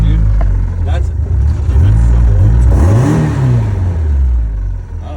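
A drift car engine with a wideband gauge idles loudly up close, then blips upward in two short revs before settling back to a steady idle, with faint talk nearby.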